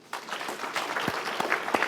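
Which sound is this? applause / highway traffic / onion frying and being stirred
applause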